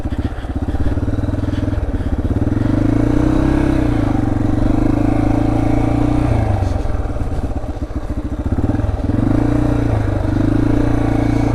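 A Yamaha TTR230 dirt bike ridden at slow speed drones loudly up close, its single-cylinder engine thumping steadily with low rising and falling revs as the throttle is eased on and off, with some clatter.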